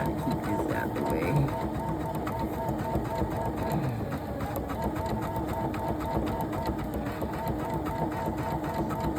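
Embroidery machine stitching an owl design onto a small 2T kids' shirt, a steady rapid mechanical chatter running continuously at moderate volume throughout.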